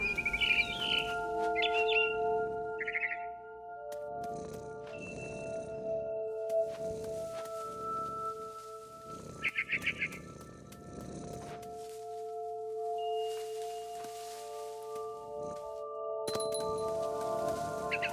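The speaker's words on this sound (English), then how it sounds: "Then I heard chirping outside my window. It was a barn swallow going back to her nest." Barn swallow chirps sound in the video game What Remains of Edith Finch, short bright bursts of twittering scattered over a sustained tonal music backdrop, with occasional clinks and quieter ambient layers between them.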